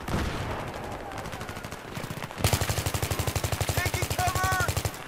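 Rapid automatic gunfire from the video game Battlefield 3 rattles in a fast, evenly spaced burst lasting a couple of seconds, loud and close, following some scattered shots and game noise, with a brief voice heard along the way.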